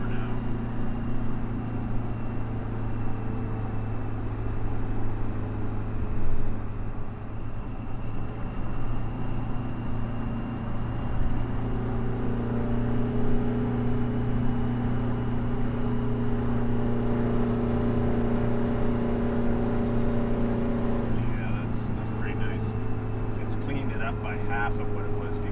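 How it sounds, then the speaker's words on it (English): Detroit 4-53 diesel engine with a freshly fitted turbo runs at a steady idle, a deep continuous drone with layered harmonics and a faint turbo whine, close and loud throughout, with brief clatter near the end. "It sure sounds nice. You can hear a bit of the turbo more now."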